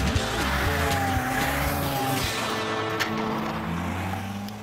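A driverless car with its steering wheel locked and throttle held wide open accelerates toward a wall, its engine roaring loud and steady with rising tones and tire squeal throughout.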